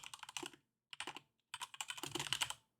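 Fingers type on a computer keyboard in quick close bursts of clicking keys, separated by short pauses, quiet and with no voices.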